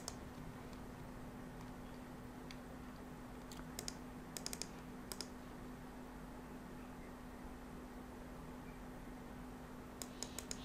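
Faint, scattered keystrokes on a computer keyboard click in a few short bursts over a quiet room hiss with a low steady hum, while someone enters text on a computer.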